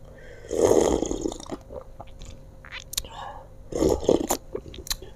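Close, wet chewing of young jengkol with sour vegetable soup and raw vegetables, coming in two louder bursts with small clicks and smacks between them and no speech.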